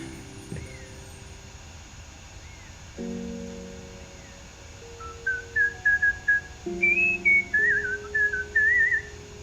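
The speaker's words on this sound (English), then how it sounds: "Last time hearing the bird whistle." A bird whistles in the dating game Date Everything, a run of short, bright chirping whistles repeating rapidly over soft background music, clear and close with no talk.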